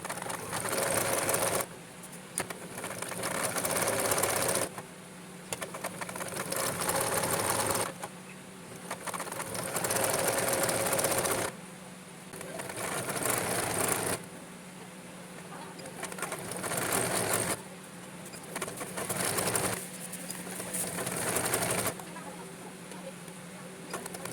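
A sewing machine stitches a picot hem along the edge of a chadar, running in steady bursts of several seconds each, separated by short pauses, close and loud with no talk.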